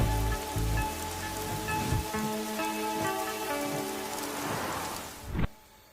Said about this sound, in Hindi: ये बारिश ही सारी समस्याओं की जड़ है